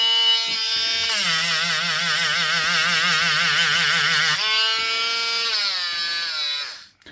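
Close, loud whirring of a small rotary tool sanding a resin scratch-card scratcher, the pitch dipping under load then rising as it spins freely before cutting off.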